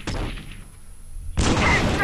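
A P90 fires in a video game, landing a headshot: a brief muffled shot is followed by a louder, sharp burst of gunfire near the end, with a quiet lull between them.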